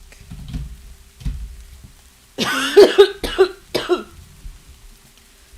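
A short burst of three or four harsh coughs, close and loud, breaking a quiet stretch with faint low murmuring before and after.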